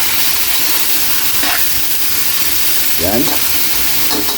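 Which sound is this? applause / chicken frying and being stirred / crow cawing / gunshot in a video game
chicken frying and being stirred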